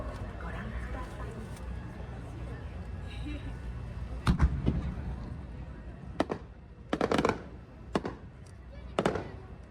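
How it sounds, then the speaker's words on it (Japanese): Fireworks from a master pyrotechnician go off at a summer fireworks festival in Hiroshima's port area, with a steady crowd murmur beneath several sharp booms and crackling bursts that come at irregular intervals. "創作花火の匠が織りなす技をご覧ください。"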